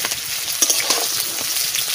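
Whole prawns going into a pan of fried pointed gourd for a malai curry, a close, steady hiss of sizzling oil with light stirring.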